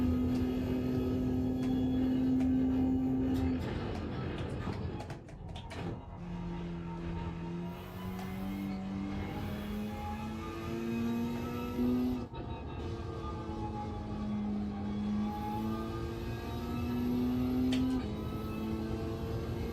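In a racing game at Catalunya, a race car engine drones steadily up and down through gear changes, a continuous loud mechanical whine rising and dropping in pitch with brief dips between shifts.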